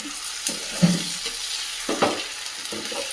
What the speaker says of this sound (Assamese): আৰু অকণমান সময় ভাজি থাকিবলৈ দিছোঁ।